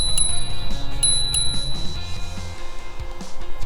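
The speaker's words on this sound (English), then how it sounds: "this bike also comes pre-assembled with a bell" A handlebar bell on a KBO Breeze eBike rings several bright, sharp times against the steady rush and rumble of riding along a bike path.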